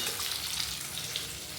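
Potatoes fry in a pan of oil on a home kitchen stove, giving a steady, close sizzle with light crackle that runs unbroken with no voices.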